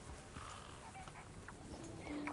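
Faint breathing and snorting from a horse in the video game Red Dead Redemption 2, quiet and close, with soft hoof-like thuds near the end.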